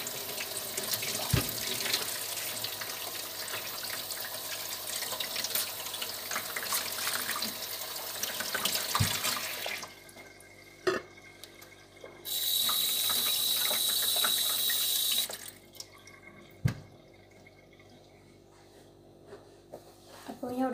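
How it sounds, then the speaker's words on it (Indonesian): Running tap water splashes into a sink while apples are washed, a steady broadband rush with a louder, brighter stretch partway through, then a quieter trickle; a few knocks and clatters of handling sit among it. "Saya mau nyuci apelnya dulu."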